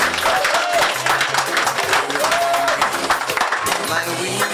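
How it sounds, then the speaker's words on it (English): An audience applauds party leader Jack Warner at a political gathering, loud dense clapping mixed with crowd voices and cheering throughout. "Round of applause for our leader, Mr. Austin Jack Warner"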